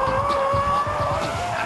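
Car drifting with its tail sliding, tires squealing in a sustained high whine over a rumbling engine, close and continuous for a brief moment.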